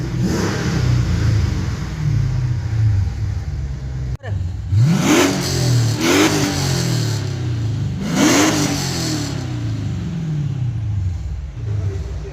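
Dodge Charger engine revving in sharp bursts, with two strong throttle blips around the middle, over a steady idle rumble, close and loud, with a faint voice beneath.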